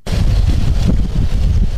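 Icy wind gusting steadily across an outdoor military funeral ceremony at a camp in Senegal, a loud continuous low roar buffeting the microphone for the whole stretch, with no voices.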